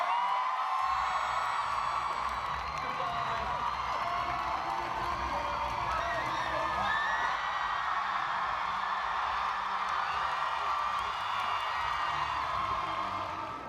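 A Comic-Con convention crowd at a Doctor Who panel cheers, whoops and screams continuously at full volume, with many shrill voices blending into a sustained roar.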